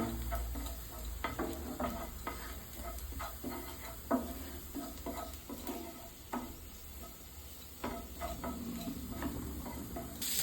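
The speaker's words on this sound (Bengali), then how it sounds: "এবার আমি রসুনটা দিয়ে দিলাম।" Garlic goes into onions frying in a pan, giving a low steady sizzle with scattered scraping stirs and clicks over a constant background hum, no talking.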